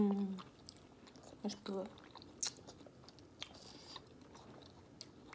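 Quail eggs being eaten, with soft, close chewing and biting noises in short bursts, then a clear crunch near the middle, set between spoken murmurs of enjoyment.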